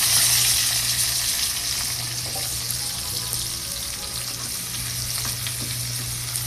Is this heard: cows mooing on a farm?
no